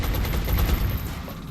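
Sustained suppressive gunfire in the strategy game XCOM, a dense, rapid burst of overlapping shots that rumbles and rattles steadily, loud and close, with no talk over it.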